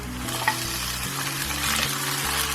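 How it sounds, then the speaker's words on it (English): Diced tomatoes hit a hot pan of oil and whole spices for chicken tikka masala, crackling in a steady close sizzle while a spoon scrapes and stirs in repeated strokes, with no voices. "so the diced tomatoes go in."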